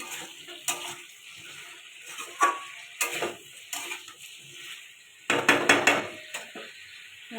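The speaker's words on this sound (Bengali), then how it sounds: "ঢাকাটা খুলে দেখে নেবো এবার আর একটু কষে দেবো" Fish, potato and drumstick curry stirred in a pan, giving scattered clinks and scrapes of a utensil against the metal, with a dense cluster of clattering strokes near the end over quiet kitchen background.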